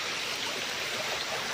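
Stream water flows in a steady, close, hissing rush at a spot where people used to do laundry and bathe. No voices are heard.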